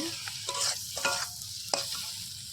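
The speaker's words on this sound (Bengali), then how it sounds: "মশলাটাকে কষিয়ে নেব" Spice paste (masala) with turmeric stir-fried in a pan, soft sizzling under a run of irregular scraping strokes from the stirring spoon, close and fairly quiet, with no voices.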